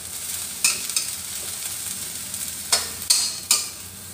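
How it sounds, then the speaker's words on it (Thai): Dish stirred in a pan after adding salt and seasoning, with a utensil scraping and clinking against the pan in a few sharp strokes over a soft, steady background hiss. "คนให้เข้ากันก็ได้แล้วค่ะ"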